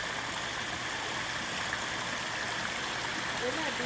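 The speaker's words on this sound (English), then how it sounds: "And then another little waterfall." A small backyard waterfall spills into a koi pond, producing a steady broadband rushing and splashing wash that stays constant and fairly close throughout, with faint voice sounds present.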